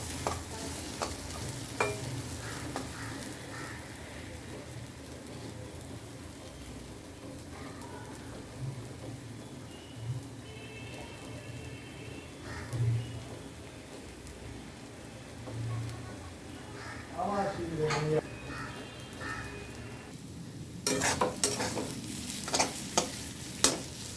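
Taro mash cooking down in a wok, a soft steady sizzle under irregular scrapes and stirring strokes, busier clattering toward the end, with little or no talk.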